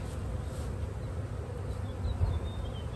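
A honeybee swarm crawls up a ramp into a hive, filling the air with a steady, dense buzzing hum from many bees, close but moderately quiet and continuous throughout.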